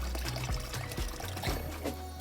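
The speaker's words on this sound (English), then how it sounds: "Our rice needs to be washed thoroughly until you get a clear water on top." Rice being washed in water while cooking Nigerian jollof rice; close sloshing and pouring sounds with rhythmic swishes as the grains are stirred and rinsed, no voices.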